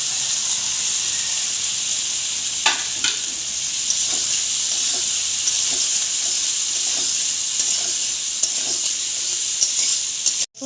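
Fish roe and a splash of water sizzle and hiss steadily in a hot pan for a fish-roe and potato curry, with occasional stirring scrapes and clicks close up, no talking.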